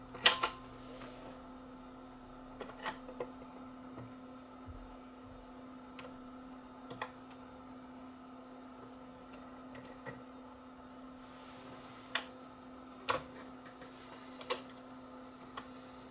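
A Dual 1219 turntable runs its automatic cycle, the tone arm mechanism giving faint, sparse ticks and clicks over a steady low motor hum, with a few louder mechanical clicks.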